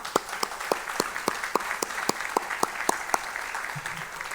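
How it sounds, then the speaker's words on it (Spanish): Audience applause at a Uruguayan criminal justice forum welcoming Supreme Court president Dr. Jorge Chediak, with steady, moderately distant clapping and distinct sharp claps throughout, without talk. "les pido un fuerte aplauso para el doctor Chediak"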